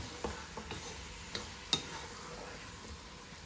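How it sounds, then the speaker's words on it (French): Food sears in a pan over low heat with tomato sauce, parsley and coriander, giving a quiet, even sizzle broken by a few soft utensil taps, one slightly sharper clink standing out. "À feu doux, je laisse saisir."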